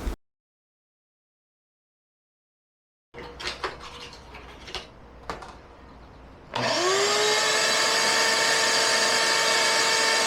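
Near clattering and handling knocks come first, then a vacuum cleaner used to clean an emergency generator in an ambulance conversion switches on with a rising whine and settles into a loud, steady roar.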